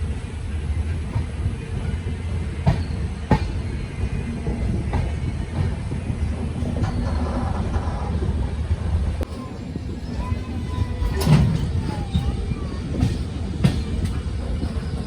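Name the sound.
Barmer Superfast Express train departing Churu Junction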